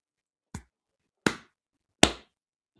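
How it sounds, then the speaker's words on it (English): A slow clap: four sharp, isolated hand claps spaced roughly three-quarters of a second apart, each crisp and close with a quick decay, growing slightly louder toward the end. "that's a slow clap."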